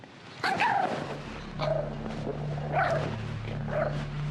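Small Chihuahua dog giving several short sharp barks and yips in spaced bursts indoors, close by, over a low steady background hum.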